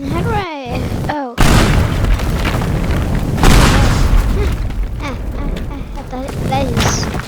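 A bomb blows up in the sandbox game Teardown with a loud booming blast and a rumbling aftermath of crumbling debris, and a voice talks over the start and the end.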